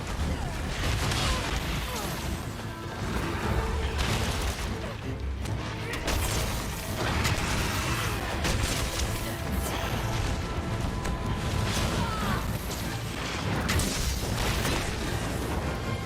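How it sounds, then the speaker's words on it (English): Explosions go off during a Monster Hunter video game fight, dense crashing booms and bursting impacts layered over continuous battle noise, loud and cluttered throughout. "On the second hit, we got an explosion."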